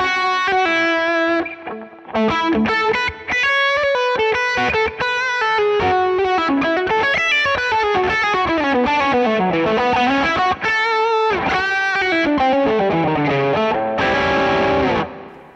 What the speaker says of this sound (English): if we really crank the overdrive,